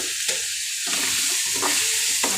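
Dried fish and tomato with a little salt sizzle and fry in a pan, with a steady close hiss broken by a few scraping stirs.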